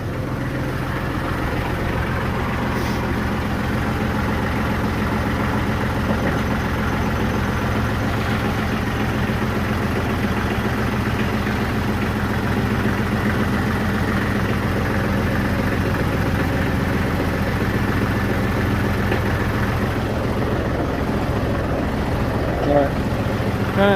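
A tractor engine idling, a steady low rumbling drone that holds unchanged throughout, fairly close, with faint background voices.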